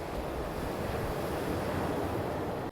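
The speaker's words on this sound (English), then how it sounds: "The ocean is also so loud." Ocean waves wash against a Svalbard shore during the polar night, a loud, continuous roar of surf close by, mixed with wind buffeting the microphone.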